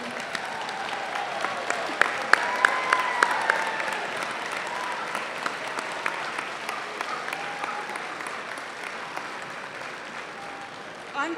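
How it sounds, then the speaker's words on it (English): Sustained audience applause at a 2022 university commencement ceremony, a crowd clapping steadily with a few sharper claps and faint cheers, gradually tapering off. "Big round of applause, all of you."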